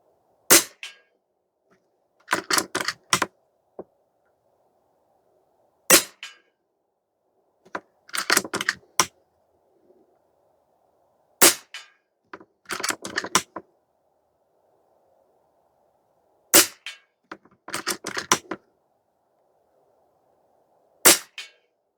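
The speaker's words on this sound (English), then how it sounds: "We'll shoot the target right next to the other one that I shot at 25, and we'll let's do 5 shots at it." Air Venturi Avenge-X .22 air rifle firing about a dozen sharp shots in small clusters of one to three, with pauses between groups, loud and close against a quiet background hum.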